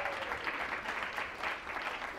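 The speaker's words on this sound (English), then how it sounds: "Round of applause." Brief burst of audience applause at a sales seminar, steady moderate clapping from a room of people throughout, with no one speaking.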